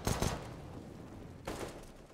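Pistol gunfire in a competitive esports shooter match: two short bursts of shots, one at the very start and another about a second and a half later, moderately loud with quiet game ambience in between.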